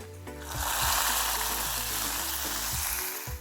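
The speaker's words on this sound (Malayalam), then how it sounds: "ഇനി നമുക്ക് നമ്മുടെ കറിയിലേക്ക് കടുക് പൊട്ടിച്ചത്" A hot tempering of mustard seeds and curry leaves is poured into a Kerala vegetable curry, bursting into a loud, close, continuous sizzle that holds steady before easing slightly.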